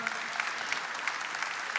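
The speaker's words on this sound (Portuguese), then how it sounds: "pode aplaudir porque isso é verdade." Congregation at a Catholic talk on devotion to Saint Joseph applauding, a moderate, fairly distant wash of clapping under a reverberant hall sound.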